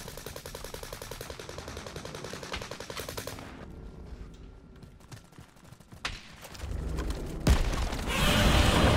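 Rapid automatic gunfire rattles in a Call of Duty Warzone match, with a sustained burst followed by scattered shots and louder blasts near the end.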